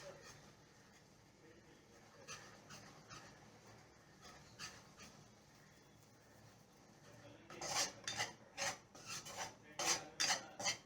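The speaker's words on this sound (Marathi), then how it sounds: "मैदा चांगला हलवून घ्यायचा, करपू द्यायचं नाही" Flour being stirred in a pan to start a sauce: soft scraping at first, then a quick run of sharper metallic strokes toward the end, close and fairly quiet, with no voices.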